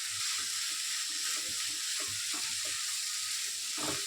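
Boiled peas and chicken keema fry in a hot pan, producing a dense, steady close-up sizzle with faint stirring scrapes and no speech.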